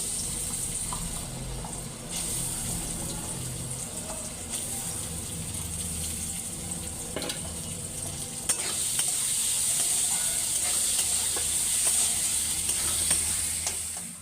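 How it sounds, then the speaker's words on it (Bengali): Small cut potato pieces fry in a pan for a snail curry, giving a steady close sizzle with stirring scrapes throughout, slightly louder toward the end, with no talk. "এই যে ছোট ছোট আলু কেটে রেখেছি, আমি গেঁড়িতে শুধু গেঁড়ি দিয়ে করবো না, একটু আলুও দেব ছোট ছোট, সেই আলুটা ভেজে নেব আমি।"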